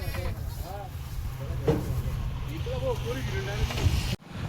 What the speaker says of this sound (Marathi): हे बघा मित्रांनो शेळ्या भरल्या गाडीमध्ये